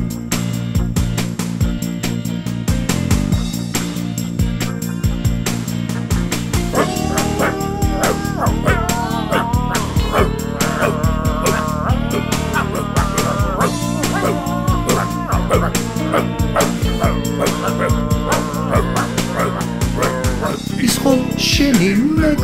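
Short dog barks and yips sound repeatedly amid a loud, bouncy children's song with steady music throughout; the barks may be sung or imitated rather than coming from a real dog.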